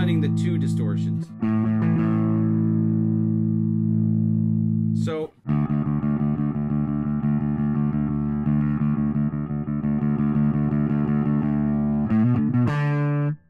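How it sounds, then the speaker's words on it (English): Electric guitar through the Nembrini Audio Blackice Beta Gamma plugin blending two distortions, sustained heavily distorted chords ringing out with short breaks and pick scrapes between them. "this is blending the two distortions"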